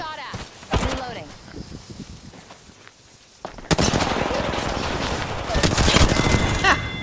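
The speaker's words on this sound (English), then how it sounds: "Getting shot at." Rapid bursts of gunfire in Apex Legends, scattered shots early then a loud sustained volley of automatic fire, with a player talking over the battle.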